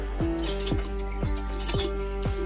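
Water from a mug splashes and drips in several separate splats at a hand-pumped tap while bottles are washed, five quick, wet, nearby drops in an uneven rhythm, faint, with no talk.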